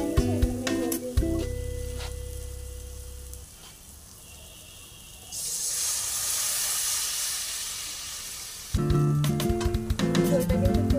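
Spice paste of green chilli, ginger, garlic and onion hits a hot pan with a burst of loud hissing sizzle lasting a few seconds, framed by clattering, music-like tones and background noise before and after.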